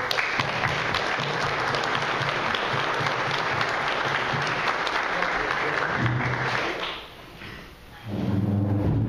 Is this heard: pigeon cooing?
no